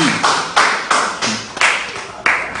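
Scattered, separate claps from a small part of an audience at an Omoyele Sowore campaign event, about seven distinct hand claps spaced unevenly and fairly close, with quiet gaps between them.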